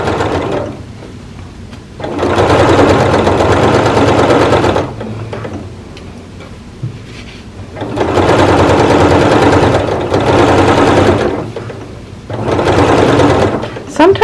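A sewing machine stitches a Butterick 6956 garment close up, running in three long bursts of steady mechanical whirring with quiet pauses in between.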